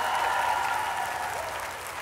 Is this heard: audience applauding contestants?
yes